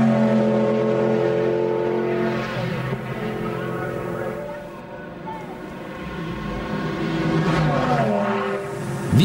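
Racing cars at the 2006 Nürburgring 24-hour race rumble past spectators at the Pflanzgarten section, loud engines roaring and shifting in pitch as they pass close by one after another.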